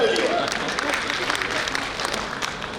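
Seated audience at a Lions Club gathering breaks into steady clapping, a continuous patter of many hands that fills the room briefly and stays fairly even throughout.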